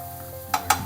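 Chopped tomatoes go into hot oil in a pan for egg sambar, giving a few short, close crackling sizzles that come in quick successive bursts.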